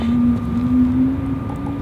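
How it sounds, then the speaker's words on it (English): Lamborghini Aventador engine heard nearby, a sustained droning tone that holds steady and loud with a slight rise, a continuous hum without distinct revs or voices. "Can you hear that Aventador?"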